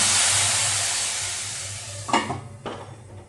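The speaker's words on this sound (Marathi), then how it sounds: "आता उकळत्या मेथीच्या भाजीमध्ये ही फोडणी आपण घालूया" A loud hiss of sizzling fades gradually as hot tempering oil is poured into boiling fenugreek-leaf curry, followed by two short clanks of a utensil near the end.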